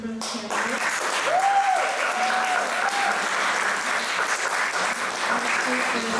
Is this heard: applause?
yes